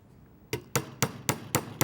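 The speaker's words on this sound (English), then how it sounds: "on this I probably will use a regular hammer." A regular hammer taps metal in a dapping block while shaping jewelry: five sharp, bright metallic strikes come at an even half-second rhythm after a brief quiet lead-in, close and clear.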